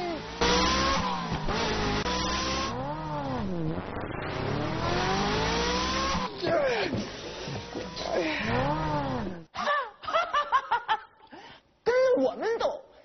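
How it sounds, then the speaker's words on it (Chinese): A cartoon car's engine revs and accelerates in rising, sweeping tones, mixed with animated character voices, snickering and chuckling, then breaks into choppier bursts toward the end. "给我踩油门！"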